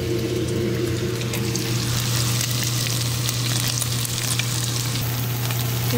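Onion added to steak frying in a pan for bistec a la mexicana, a loud, continuous close sizzle with a steady crackle and no voices.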